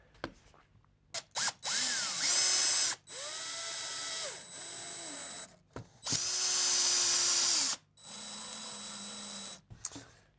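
A power drill drives a screw into a 60 by 20 timber board while building a dining table, whirring in several loud bursts of a second or two each, separated by short pauses and ratcheting clicks.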